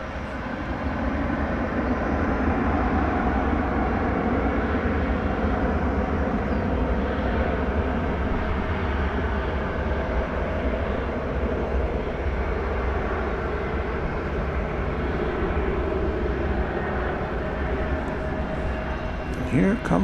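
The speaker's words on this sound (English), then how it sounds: "Here comes the Minneapolis flight." An airliner on the Minneapolis flight at DFW Airport rumbles steadily in a broad, distant roar that holds for the whole stretch, with people talking faintly beneath it.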